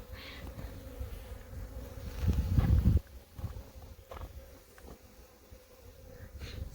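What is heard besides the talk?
honeybees buzzing as a hive frame is shaken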